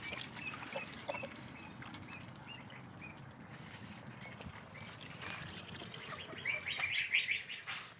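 Farm birds including chickens and geese, faint scattered clucks and honks against a quiet outdoor background, with the calls growing busier and louder toward the end.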